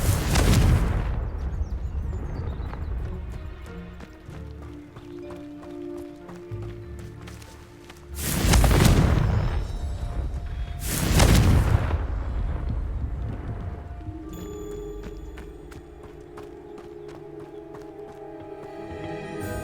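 Confringo, an explosive fire spell in Hogwarts Legacy, lands as heavy whooshing blasts over game action, with two loud bursts close together in the middle and rumbling, clattering effects in between.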